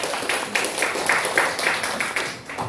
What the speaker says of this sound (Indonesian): tepuk tangan untuk kehadiran kita hari ini ya